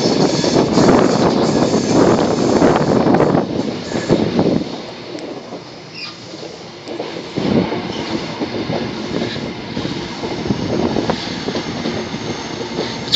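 A train runs through a station near Plymouth, heard from on board as a loud rushing rumble that eases midway and then builds again into a steady rolling roar.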